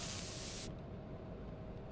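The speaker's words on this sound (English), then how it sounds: "Spray them. Get them." A spray hisses loudly at moths in the Escape the Backrooms game, a broad steady burst that cuts off abruptly after under a second, leaving a low ambient rumble.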